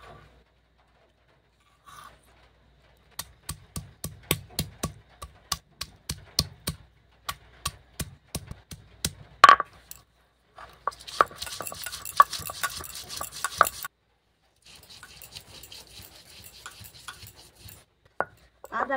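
Ginger being ground by hand for a chicken fry masala: a run of sharp, rhythmic knocking and scraping strokes, then a stretch of steady gritty rubbing and a few scattered knocks, close by with no talk.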